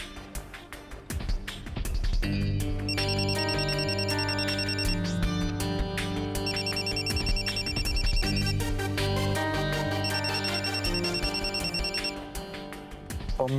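A mobile phone rings with a melodic tune of repeating chime phrases, looping in three bursts over a steady backing, clear and fairly loud with no voices.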